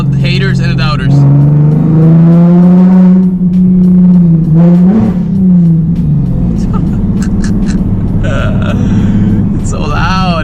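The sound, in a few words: loud modified Nissan 370Z exhaust revving on the street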